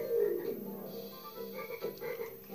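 Frogs croaking in the Crash Bandicoot 3 Warped video game, a few close, fairly loud croaks over a soft game background.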